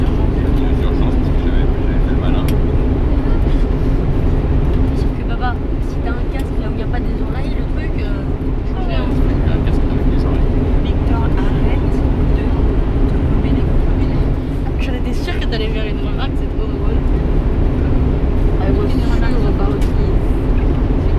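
A Swiss Airbus A321-111 lands at Paris-Charles de Gaulle, with a loud, unbroken broadband roar and rumble throughout and scattered faint knocks and rattles.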